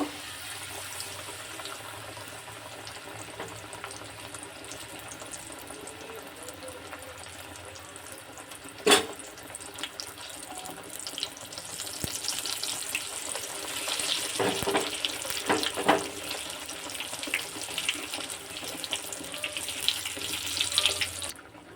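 Battered eggplant fritters (beguni) deep-frying in oil in a wok give a steady hissing sizzle, with one sharp clatter near the middle; the bubbling grows louder and busier in the second half, with no voices.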